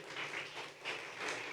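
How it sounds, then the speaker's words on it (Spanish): A church congregation claps in praise, a soft, distant run of clapping that swells and fades in a loose rhythm. "Dale palmas al Señor, alábale."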